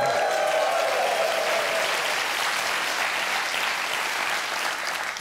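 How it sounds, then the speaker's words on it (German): Studio audience at a German TV satire show claps steadily and loudly for about five seconds, a dense even wash of hands with no talk over it. "Sehr rätselhafter Applaus,"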